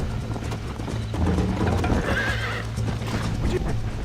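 A horse in the video game Red Dead Redemption whinnies loudly over quick, rhythmic clip-clopping hooves and galloping noise, close up.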